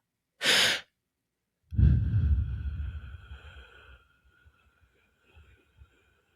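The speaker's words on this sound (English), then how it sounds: "Go, quick inhale, slow, long exhale." A person does a breathing exercise: one quick, sharp inhale, then a pause and a slow, long, gradually fading exhale, close and clear.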